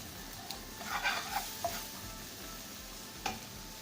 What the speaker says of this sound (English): very thinly peeled carrots start to cook.